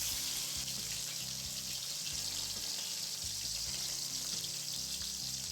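Chopped cauliflower hits hot oil and ghee in a pan, giving a continuous hissing sizzle that stays loud and even throughout, with no talk.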